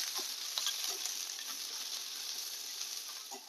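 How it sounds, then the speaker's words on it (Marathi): Onion, ginger and garlic fry in a pan as Puran Poli meal dishes are prepared, giving a steady, close hiss with a few faint clicks of stirring throughout. "आता हे कांदे ते पण आपण टाकूया आणि कांद्यामध्ये आपण जे आलेलं लसूण आहे ते पण टाकतो"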